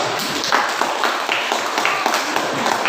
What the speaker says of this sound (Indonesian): mari kita tepuk tangan dulu untuk kelompok 2